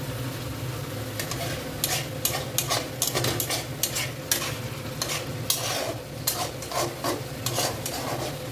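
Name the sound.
curry with potatoes being stirred and sautéed in a pan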